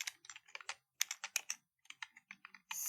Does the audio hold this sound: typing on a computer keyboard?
yes